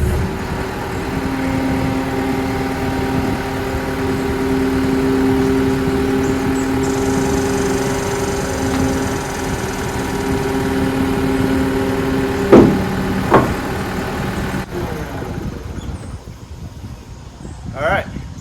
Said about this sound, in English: that's loading a skid loader by yourself on a deck over